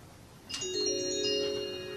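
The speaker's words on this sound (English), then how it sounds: "It says it has an incoming call, shows who's calling." Avaya B179 conference phone ringing for an incoming call, a bright electronic ringtone starting with a sharp chime then sustained layered tones, fairly faint and alone without talk.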